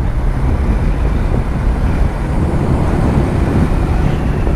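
A Yamaha Vixion motorcycle is ridden solo, heard as a continuous loud roar of engine and road noise mixed with heavy wind buffeting on the microphone.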